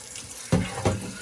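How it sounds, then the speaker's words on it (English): Water pours from a glass jar into a pot of beef meatballs and vegetables in a kitchen. Two short, close splashing gushes come about a third of a second apart over quiet background. No one speaks. "Then I pour this in here so that I have enough water, just enough water for my meat and vegetables"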